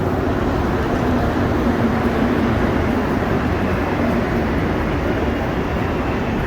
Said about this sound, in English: Try to get a view of this train coming back towards Lionel-Groulx.